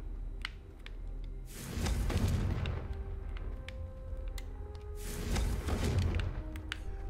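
Two broad, rumbling blasts from the Confringo fire spell in Hogwarts Legacy, spaced a few seconds apart and each trailing off into a noisy crackle over a low game-ambience bed.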